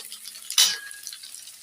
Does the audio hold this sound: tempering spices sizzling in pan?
yes